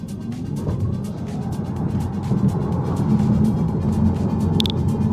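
Tesla Model 3 Performance on aftermarket 19 by 9.5 square-setup wheels launching in a 0 to 60 run, a steady rising road and motor roar heard from inside the car, building in loudness, with no talk over it.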